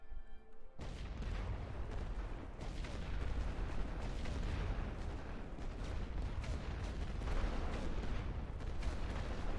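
An artillery barrage from the World War I game The Great War Western Front rumbles as a dense, continuous wall of booming explosions, loud and sustained throughout with no talk.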